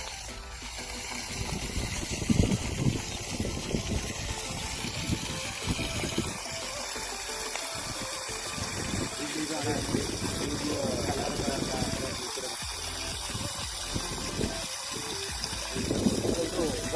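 Water gushes continuously from an outdoor pipe fed by a Hawksun 3 HP solar pump, a loud, broad rushing roar that carries on throughout while people talk nearby.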